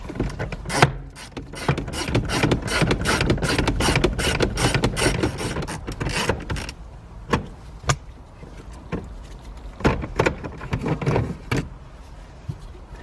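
A ratchet loosening and removing bolts inside a 2013-2019 Nissan Sentra during airbag control module replacement: rapid, close clicking runs at first, then shorter separate bursts of clicks with pauses between.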